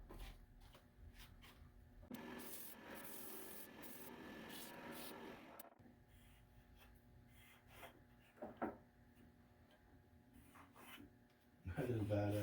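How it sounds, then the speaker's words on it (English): Hand sanding of a small wooden crank handle with sandpaper in a home woodshop makes a steady scratchy rasping burst lasting a few seconds, followed by quieter shop clatter and a louder thump near the end. "Okay, a little sandpaper."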